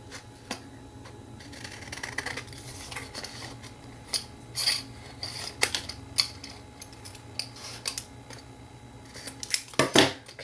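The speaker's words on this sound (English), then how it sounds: "So, finish cutting out your tag." Scissors snipping through a paper bag to cut out a tag, with irregular close crisp snips and rustling paper over several seconds, building to a louder cluster of cuts near the end, with no talking.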